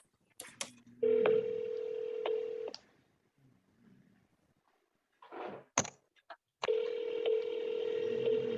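A telephone is dialed: a few quick key tones sound, then a steady ringback tone plays, broken by a pause with faint thumps and soft handling noises before the tone returns.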